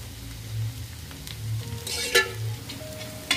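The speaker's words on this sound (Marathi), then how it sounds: "आणि हिरव्या मिरचीवर मी त्याच्यावर थोडंसं मी तेल घालते।" Oil poured over green chillies in a pan gives a quiet, steady sizzle with a few sharper crackles and pops.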